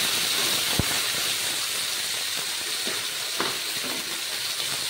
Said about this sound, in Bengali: গাটি কচুগুলোকে ভেজে নেবে তেলের মধ্যে